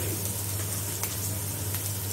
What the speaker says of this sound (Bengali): এবার ভাজা ভাজা চলছে